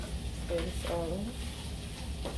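Shrimp cake mixture sizzling in a hot pan while it is stirred in, a continuous moderate crackle with scraping stir sounds layered over it.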